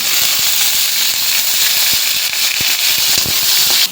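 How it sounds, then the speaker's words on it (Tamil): Onions and salt frying in hot oil in a kadai, a steady loud sizzle and hiss with scattered sharp crackles and pops throughout. "இப்போ இந்த ஸ்டேஜில் வெங்காயம் போட்டு உப்பும் போட்டுடலாம்."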